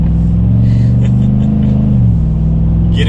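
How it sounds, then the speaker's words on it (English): Chevrolet Silverado 1500 with a V8 on oversized tires accelerates from a standstill, a loud steady low engine drone that rises and then eases back as it gets up to speed, with no talk over it. "And then we'll test out the V8, kind of feel out how the power is even with these oversized tires."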